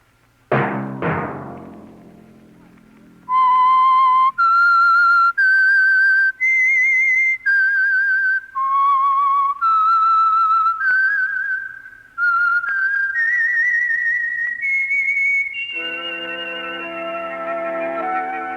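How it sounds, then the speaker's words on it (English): A lone whistled melody, the signature theme of The Whistler radio mystery program, with clear sustained notes rising and falling in a slow tune, preceded by brief sharp sounds and ending on a sustained, orchestra-like chord. "Let that whistle be your signal for the Signal Oil program, The Whistler, each Sunday night at this same time."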